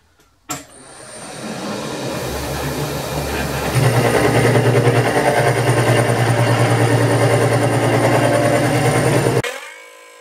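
A powered lathe slotter machines a metal face. A motor starts, then runs with a steady, close mechanical drone that grows louder midway and stops abruptly near the end. No speech is heard.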